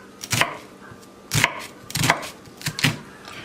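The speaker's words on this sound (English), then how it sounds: "next I'm going to chop up this onion" A knife chops through an onion on a cutting board in a kitchen with five sharp, separate strikes. The cuts come at an uneven pace, close and clear, and no one speaks.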